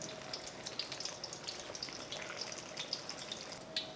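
Pork belly being double fried in hot oil, a steady close sizzle crackling with irregular small pops and spits, moderately loud and continuous, with no talking.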